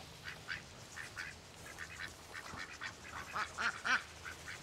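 Ducks quacking in a farmyard, a scattered series of nasal calls at a moderate distance, fairly faint over outdoor background noise.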